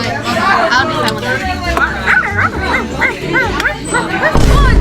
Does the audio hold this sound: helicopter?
no